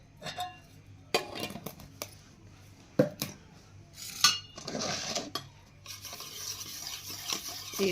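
A spoon stirs and mixes homemade curd with sugar in a metal vessel, giving close, irregular clinks and scrapes against the sides, with brief pauses between bursts of stirring.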